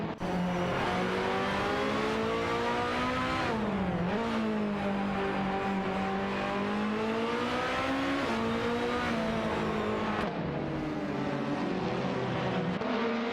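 Race cars racing, with a loud, close engine drone that climbs and dips as the cars shift gears, holding a continuous roar for the whole stretch with a brief lift near the end.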